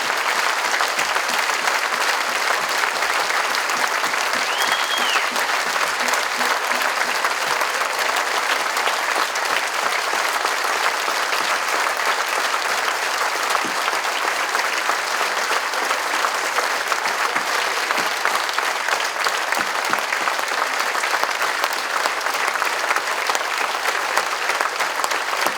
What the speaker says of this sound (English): will now clap the health workers around the world